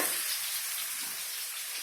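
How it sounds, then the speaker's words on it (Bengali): Potatoes frying in a pan, giving a steady bright sizzle with a faint bubbling edge, close and continuous. "তো এই আলু আমার ভাজা হচ্ছে।"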